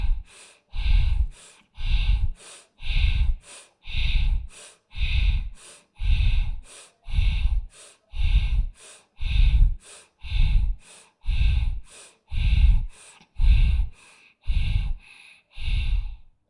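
Deep, even breaths in and out during a yoga arm-raising exercise, about fifteen loud, close breaths in a steady rhythm roughly one per second, with no talking.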